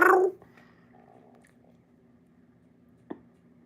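A cat purrs softly and steadily up close. A brief burst of louder noise comes first, and a single small click sounds near the end.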